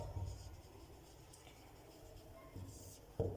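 Marker or chalk writing on a classroom board, a faint continuous scratching with soft strokes and a louder tap near the end, quiet and close.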